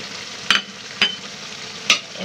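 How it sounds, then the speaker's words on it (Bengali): Taro stolon curry with shrimp sizzles steadily in the pan while a utensil stirs it in three sharp scraping strokes, close up and with no talking. "আমি নেড়ে চেড়ে লতিটা নামিয়ে নিব"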